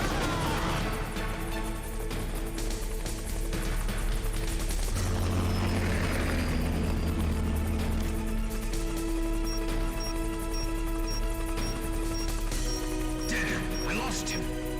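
A Hind helicopter in the video game Metal Gear Solid: The Twin Snakes throbs and roars steadily throughout, with impacts, crashes and game music laid over it and a person talking now and then.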